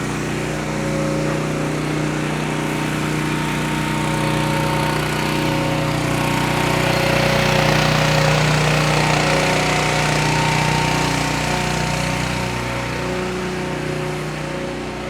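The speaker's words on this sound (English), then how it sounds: "this is how the city cleans the pedestrian plazas using a pressure washer" A pressure washer cleans a pedestrian plaza in New York City, giving a loud, steady engine-driven drone with a broad hiss that swells slightly midway and continues without pause, and no voices.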